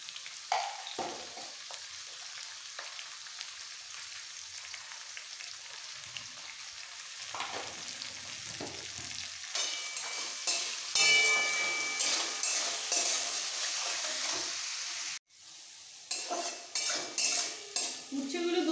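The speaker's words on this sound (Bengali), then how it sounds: "উচ্ছেগুলো 2 মিনিট ঢাকা দিয়ে একদম কড়া করে ভেজে নেব" Sliced bitter gourd frying in oil with salt and turmeric in a pan, sizzling steadily while a utensil scrapes and stirs against the metal, with clinks of cookware; a brief break, then louder scraping strokes resume.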